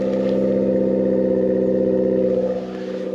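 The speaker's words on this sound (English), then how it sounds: "Sounds like it might have an exhaust too." A Honda SMX engine runs loud and close with a deep, droning exhaust tone held steady, then eases off near the end.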